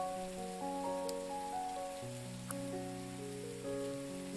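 Steady rain hissing and pattering on surfaces in a VR fishing game, heard alone with no talk, under long sustained tonal background music notes.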